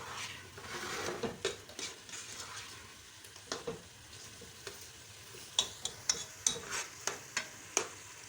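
Meat frying and being stirred in a pot for Sindhi biryani, a steady sizzle under repeated scrapes and clinks of a spoon against the metal, growing busier toward the end, no voices.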